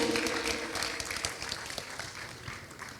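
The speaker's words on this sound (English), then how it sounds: "let's give a round of applause as they are coming on the stage" Steady applause from a church anniversary audience, a dense wash of clapping that gradually softens over a few seconds.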